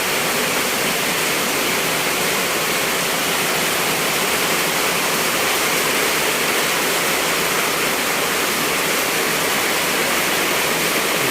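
Heavy rainwater from a sudden downpour floods into a house, a steady loud rushing wash of water that continues without break, with no voices over it.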